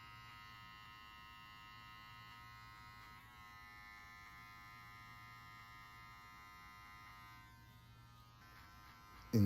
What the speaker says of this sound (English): I'm only using the border of the clipper's blade